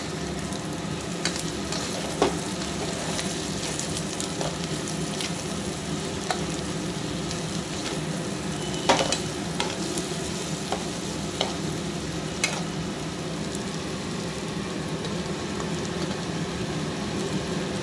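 Spice masala frying in a pan for a chickpea (chole) curry, a steady sizzle with intermittent scraping and clinking of a spoon stirring against the pan throughout, no talking.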